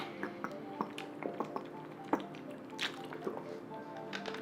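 Gulping ice cold Kirkland bottled water: a series of close, irregular wet swallows and small liquid clicks, each brief, spread across several seconds with no talking.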